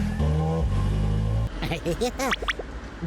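A car engine revs loudly with a steady low roar for over a second, then gives way to cartoonish whooping and voices.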